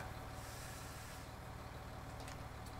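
A truck in Farming Simulator 19 tipping canola with its handbrake on, a steady low engine drone with a rhythmic mechanical pulse and faint higher tones, quiet and continuous.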